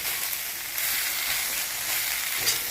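Bitter gourd stir-fry sizzles in a hot pan with a continuous loud crackle and hiss while it is stirred, with faint scraping now and then.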